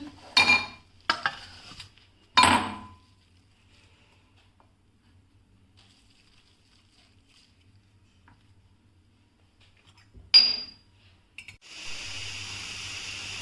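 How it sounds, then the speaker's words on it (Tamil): Potato french fries tossed with chilli-powder masala in a bowl: a few clinking, scraping bursts early on, a long quiet pause, another clink, then a soft steady hiss to the end. No talking. "மசாலா போட்டு நல்லா ஒரு பவுலில் மிக்ஸ் பண்ணிவிடுங்க"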